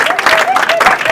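Congregation applauding during a funeral service, dense continuous clapping from a crowd nearby with a tonal sound running through it.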